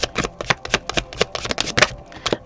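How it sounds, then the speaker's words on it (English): Tarot cards shuffled in rapid bursts of riffling and flicking, a close, crisp, rhythmic papery clatter repeating through the whole stretch with no voices. "I tend to not really like shuffling on camera because cards just seem to, like, fly all over the place."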